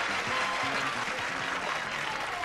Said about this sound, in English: We got a little bit of premature applause there